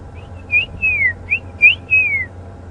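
A robin in a cold-morning game reserve calls in a series of clear, fluid whistled phrases, about six slurred notes over a few seconds, fairly close and distinct above a low steady rumble, likely a safari vehicle's idling engine.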